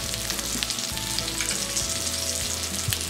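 Pork chops browning in oil in a pan give a steady, close, even sizzle with faint crackling pops throughout, and no one speaks.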